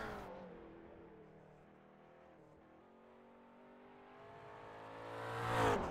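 A McLaren MP4-12C GT3 in the iRacing sim at Bathurst brakes, its engine note winding down through a steady drone before swelling back up loudly at the end, with no talking.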